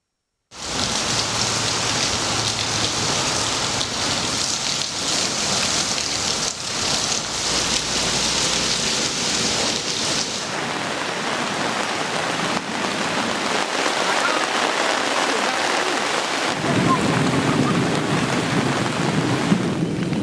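Heavy rain pours steadily and loudly throughout, a dense continuous wash of drops with some wind, alone with no voices.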